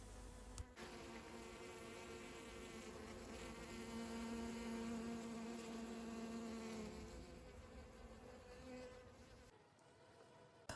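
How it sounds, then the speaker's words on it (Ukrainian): A swarm of bees and other insects buzzing around blooming kochia outdoors, a continuous close, droning hum that swells slightly and fades, with no talk. "Розквітла кохія. І там тепер, наче рій поселився. Так воно все там жужить."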